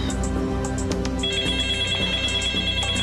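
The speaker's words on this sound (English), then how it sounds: "Hang on, my other line's ringing." A telephone rings with a loud electronic ringtone pattern, steady and close, heard alone without any speech.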